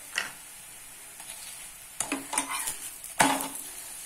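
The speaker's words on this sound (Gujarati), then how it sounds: "હું આ થોડું એવું ઘી લગાવી અને શેકી લઉં છું" Flatbread roasting on a pan with ghee spread over it: a soft sizzle under intermittent scraping and light metallic clinks, with a few louder bursts near the end and no speech.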